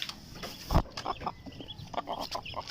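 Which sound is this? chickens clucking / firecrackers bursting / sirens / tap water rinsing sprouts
chickens clucking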